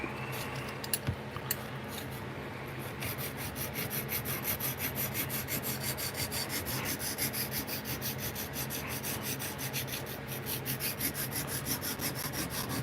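Hard steel tweezers being sharpened to a 20-degree profile, a close, continuous rhythmic rasping and rubbing of metal against an abrasive surface, steady and unbroken after a few initial taps.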